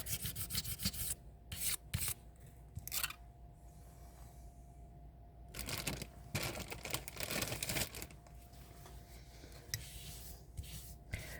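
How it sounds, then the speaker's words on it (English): Very fine sandpaper rubs across a clay sculpture in soft, raspy bursts of strokes, with quiet pauses between them, close to the ear and faint overall. "I got a very fine sandpaper here, so it's not taking hardly anything off."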